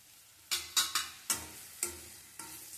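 Grated coconut being sautéed over low heat in a pan, six or seven distinct spatula scrapes and stirs at irregular intervals against a faint sizzle, close and clear, no talking.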